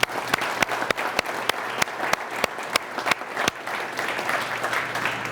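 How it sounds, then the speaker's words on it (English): An audience claps in a steady burst of applause, sharp individual claps standing out over a dense crowd patter that gradually thins. "Let's give them a round of applause."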